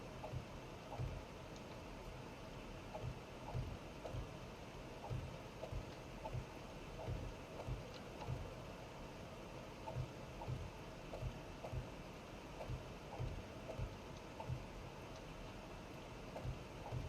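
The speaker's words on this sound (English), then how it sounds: "I don't want to be rained on anymore." Steady rain in the zombie survival game 7 Days to Die, a soft continuous hiss with faint rhythmic thumps underneath, quiet and unbroken throughout.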